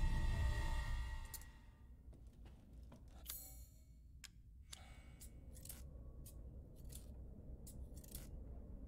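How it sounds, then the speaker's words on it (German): Metallic scissor snips and small clicks from Resident Evil Village sound as sharp, isolated ticks spread over a low steady game ambience, following a louder rumbling opening. "Guck mal, das ist die Schere."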